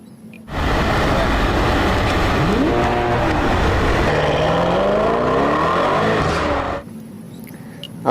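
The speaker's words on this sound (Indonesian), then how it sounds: "Di sini ada mobil balap." A toy race car being played with runs for about six seconds, a steady whirring motor drone with rising and falling pitch sweeps, starting and stopping abruptly.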